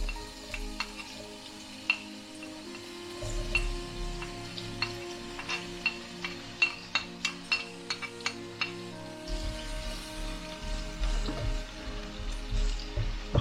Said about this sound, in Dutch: En dat gaan we dus nu eigenlijk bakken in een beetje olie.